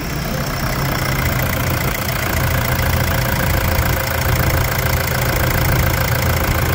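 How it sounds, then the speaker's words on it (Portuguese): A Toyota Hilux 3.0 diesel engine idles after an injector replacement following contaminated fuel. It makes a loud, close, continuous rumble with a steady knocking clatter throughout. "Vai ter uma escuta a melodia desse motor."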